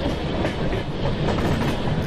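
Shatabdi Express hauled by a Ghaziabad-shed WAP-5 electric locomotive between Vapi and Valsad, heard as a steady, dense rumble of rolling wheels with a faint clickety-clack, continuous and close.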